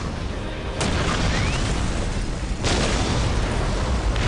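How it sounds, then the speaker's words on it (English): Ork artillery from the Warhammer 40,000 game Dawn of War fires in two heavy booming blasts, each followed by a long rumbling roar that fills the scene with dense explosive noise. "We will silence that Orc artillery."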